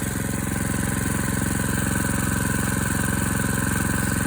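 A car engine idles while it warms up on a snowy day, giving a steady, fast, even chugging rumble close by. The sound holds unchanged and loud throughout, with no voices.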